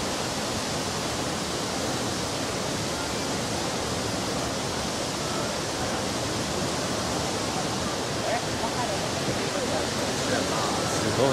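Jōren Falls in Izu, Japan, roars as a broad, constant rushing wash of falling water, steady and fairly loud throughout.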